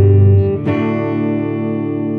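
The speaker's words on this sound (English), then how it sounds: "what we have is the full humbucking pickup. So it'll be similar to maybe a Les Paul kind of sound" An electric guitar with a Les Paul-style sound played through its full humbucking bridge pickup rings out in a single loud strummed chord that sustains and slowly fades, with no talking.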